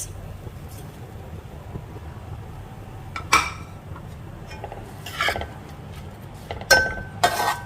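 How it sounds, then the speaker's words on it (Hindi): Metal spoon stirring spices in a cooking pot while making bhindi, giving a few separate scraping clinks and taps against the pot over a quiet kitchen background. "सब मैंने इसमें डालकर तो चम्मच से इनको मिक्सअप कर दिया है"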